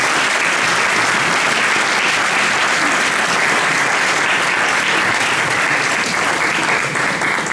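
A crowd at a referendum debate in Cava de' Tirreni gives the youth forum volunteers loud, dense, continuous applause, a close and steady wash of clapping lasting over seven seconds with no speech.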